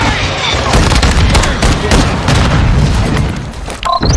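A Semtex grenade goes off in the Warzone shooter, a dense, loud boom with rumbling debris that carries through most of the moment before a short electronic game chime at the end.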